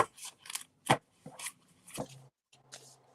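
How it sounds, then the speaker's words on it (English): Several short crisp rustling bursts of cards being shuffled and riffled, with brief gaps between them, close and fairly quiet. "Ooh, the sound of shuffling cards."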